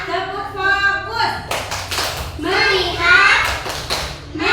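Children in a classroom chant and clap through the tepuk fokus focus routine, their rhythmic hand claps loud and close, mixed with the group's young voices.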